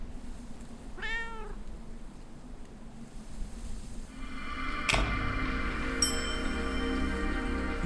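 A cat in the video game Burnhouse Lane gives one clear, close meow over a steady low ambient hum, followed later by sharp tonal game chimes and a brighter background drone.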